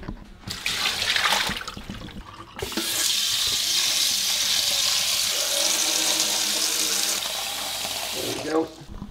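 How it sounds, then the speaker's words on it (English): Tap water running into a bowl for English bulldogs: faint handling and rustling first, then a steady loud gush of water filling the bowl for about five seconds before it shuts off with a few clunks. "Now we're gonna fill up their water bowl."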